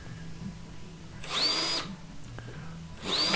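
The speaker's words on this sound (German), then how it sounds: "Und die Löcher senken, damit die Schrauben da schön drin sitzen." Power drill countersinking screw holes in a wooden frame, two short whirring bursts of about half a second each, close and clear against a quiet room.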